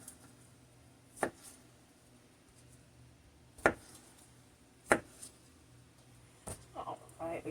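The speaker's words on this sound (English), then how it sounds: "that's another reason why I cut my cherry tomatoes" A knife chops cherry tomatoes on a cutting board in a few sharp, separated thuds spaced a second or more apart, close and fairly quiet against a soft background with faint kitchen noise.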